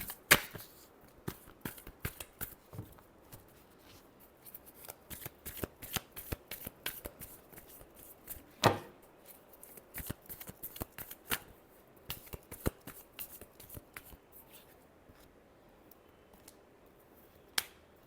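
Tarot cards are shuffled close up in a quiet room, giving many rapid sharp riffling snaps and flicks in irregular bursts, with one louder slap midway and occasional pauses, no voices.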